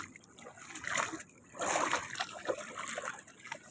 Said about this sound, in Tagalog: Tinan mo lakas na ng alon